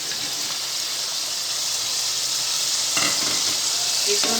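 Boiled mutton pieces go into a pan of frying potatoes for a spinach mutton dish, raising a loud, continuous sizzle that grows rougher with stirring and scraping near the end.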